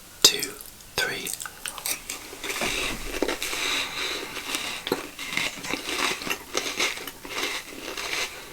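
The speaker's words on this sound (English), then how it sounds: "It's the Jatz, it's got the perfect crunch" Crisp, close-up crunching and chewing of an Arnott's Jatz biscuit, a slightly savoury cracker, with irregular bites and crumbly crackles over several seconds, recorded intimately for a taste test.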